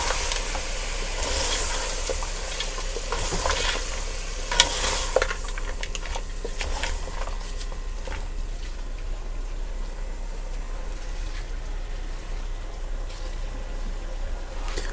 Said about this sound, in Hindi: इसको थोड़ी देर के लिए फ्राई करेंगे।